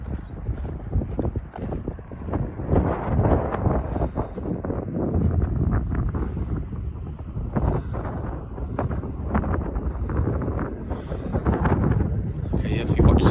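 Strong wind buffeting the microphone on a warm, breezy walk at Larnaca Salt Lake in Cyprus, a loud continuous rumble with gusty swells.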